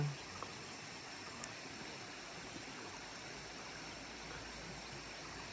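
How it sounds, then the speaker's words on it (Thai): A mountain stream flows beside a campsite at Doi Chang in Chiang Rai, making a steady, even rush of water throughout, with a faint click or two and no voices. "ฟังเสียงลำธาร"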